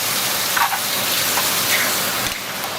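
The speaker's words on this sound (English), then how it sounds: "And you have to keep on stirring." Javanese bami goreng noodles coated in soy sauce hiss and sizzle as they are stirred in a hot pan, a loud, steady frying wash with faint scrapes, no talk.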